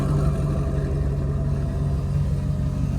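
A 1933 Willys Scott rod fiberglass kit car idles through an exhaust with four tips, giving a deep, steady, close-up rumble that holds even throughout.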